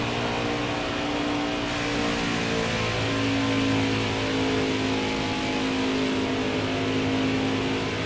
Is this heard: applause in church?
no